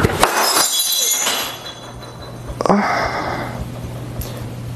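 Glass dropping and shattering on a hard floor: a sharp crash near the start with scattering shards, a quieter stretch, then a second bright smash and tinkling fragments, no voices over the breakage.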